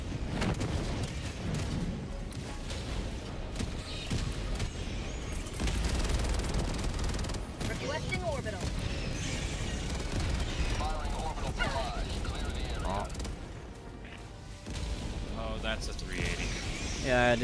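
Rumbling explosions and bursts of gunfire in the video game Helldivers 2, layered and continuous under excited chatter from several players.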